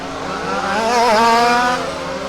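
A rally race car at Warm Springs Raceway sweeps across the start-finish line, its engine note rising and swelling as it passes close by, then easing away, with no talk over it.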